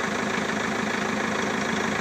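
Backhoe engine running at a steady idle during a paracord pull test, a continuous loud low rumble with faint knocking, heard alone.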